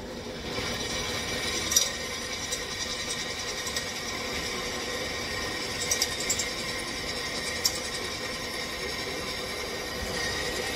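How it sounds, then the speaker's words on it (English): A steady mechanical whirring and grinding drone with a few sharp metallic ticks and clicks, a drill working through the metal of a blacksmith-made boot knife. "This is them drilling a hole in it."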